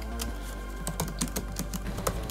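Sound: typing on M1 MacBook Pro keyboard

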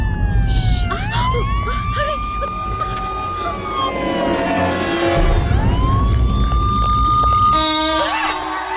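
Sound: toy police car siren

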